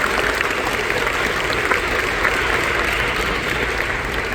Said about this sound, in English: one more round of applause to our round of Cubs signees.